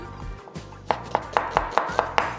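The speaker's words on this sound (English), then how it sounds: "So I'm slicing a couple of onions for my lovely ghee roast rice" A knife slices through a couple of onions on a board, about eight crisp, evenly spaced cuts that start unevenly and then settle into a steady rhythm, close and clear with no speech.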